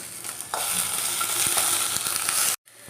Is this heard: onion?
yes